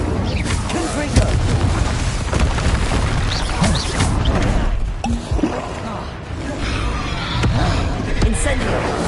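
Dense, continuous booming blasts from Confringo spell explosions in the PS5 game Hogwarts Legacy, loud and layered with rumbling low impacts throughout, with a voice shouting over the chaos.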